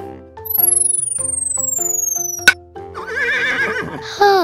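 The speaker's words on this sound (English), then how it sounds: "Horse." A cartoonish horse neighs loudly in a quavering, wavering whinny near the end, after an electronic sweep, a sharp hit and clip-clop-like tones.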